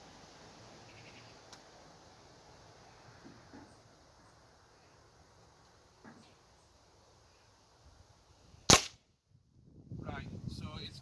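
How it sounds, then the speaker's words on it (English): A single sharp crack from an HW77 air rifle fired at a target 10 yards away stands out against a quiet outdoor background with faint insects. A brief rustle of handling noise follows the shot. "I'll take a shot."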